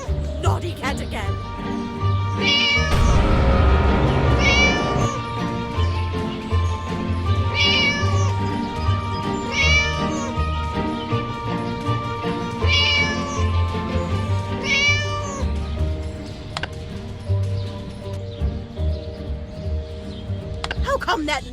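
A cartoon cat in the Scary Teacher video game meows repeatedly in short, bright, drawn-out cries over a busy game soundtrack, with the meows recurring every few seconds amid background effects.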